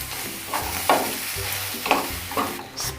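Bread pieces stirred with spices in a hot pan for a spicy masala bread tiffin, giving a steady close sizzle broken by several soft scraping stirs.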